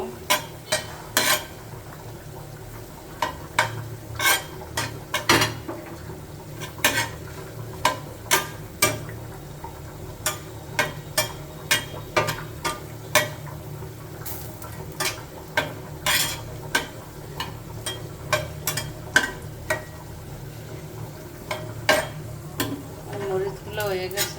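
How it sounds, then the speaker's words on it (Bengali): Green chilies frying in oil already used for fish and potatoes, a faint sizzle under repeated rhythmic clacks of a spatula stirring against the pan, with a steady low background hum. "এই তেলে আমি মরিচগুলো ভেজে নেব"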